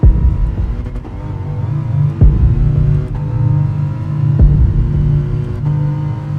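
Race car engine on the final lap of a Gran Turismo 7 circuit, a loud close droning rumble with sharp downshift drops and revs rising and falling, no speech.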